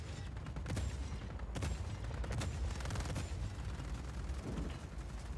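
Vehicle-mounted cannon firing in Just Cause 4, rapid heavy bursts of shots pounding close and loud in a near-continuous barrage, with no talk.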